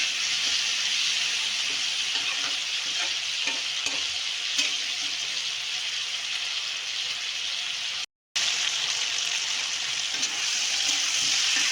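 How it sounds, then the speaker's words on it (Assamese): Chicken pieces fry in a pan with oil for an Assamese village-style chicken curry with curry leaves. A loud, steady sizzle and crackle runs throughout, close up, with one brief dropout near the end. "কিছু সময় এনেকৈ মাংসখিনি ফ্ৰাই কৰিম"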